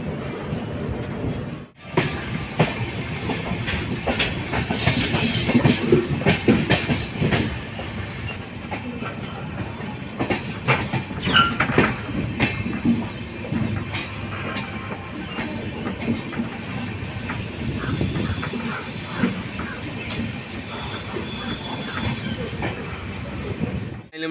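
The Ganga Sutlej Express rolls along the rails with steady clickety-clack wheel rhythm, rattling carriages and occasional squeals and hiss, heard loud and close from inside the moving train.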